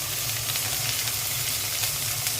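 Onion with ginger-garlic paste frying in a pan, a steady close sizzle with faint stirring scrapes running continuously and evenly throughout.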